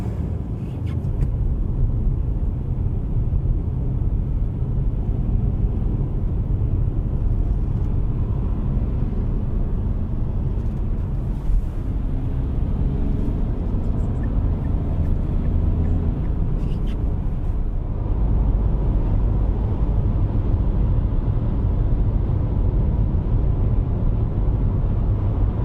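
Steady low road rumble and engine hum inside a moving 2024 Dacia Duster 4x4, constant and moderately loud with no voices.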